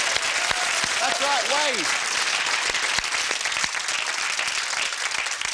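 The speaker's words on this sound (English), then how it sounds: "Give them a big round of applause." Studio audience applause on a UK game show, a dense steady roar of clapping lasting throughout, with a presenter speaking over it and brief whoop-like vocal sweeps early on.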